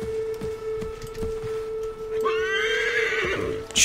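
A horse whinnies in the Assassin's Creed III video game, a bright rising neigh near the end following a few seconds of steady hoof clip-clop under a constant tone.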